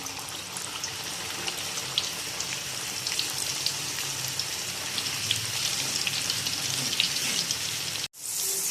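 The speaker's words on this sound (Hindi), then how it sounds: "अभी हम दूसरा बैच फ्राई करने लगे हैं।" A second batch of chana dal deep-fries in hot oil, a steady dense crackling sizzle that runs on evenly and loudly, with a brief dropout near the end.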